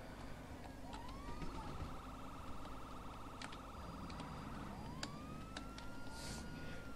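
Rising and falling wail of an ambulance siren in the GTA V game with the LSPD:FR police mod, quite faint, sweeping up and holding before repeating, over a low engine drone.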